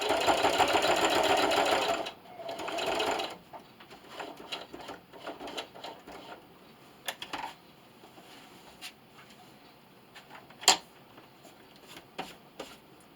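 A sewing machine runs steadily for about three seconds while stitching a plastic bag dispenser, then the motor stops and only scattered soft clicks and handling noises follow, with one sharp tap near the end.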